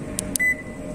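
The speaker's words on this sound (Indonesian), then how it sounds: "ini bunyi chime kuncinya itu kayak di Toyota ya" Two quick clicks followed by a single short, high electronic beep from a 2022 Honda HR-V SE CVT locking, with a low hum in the background.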